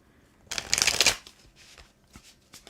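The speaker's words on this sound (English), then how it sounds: "Do one more good shuffle for you, Brittany." Tarot cards get one brisk riffle shuffle, a close, crisp burst of flapping lasting about half a second, followed by a few softer taps and rustles as the deck is squared.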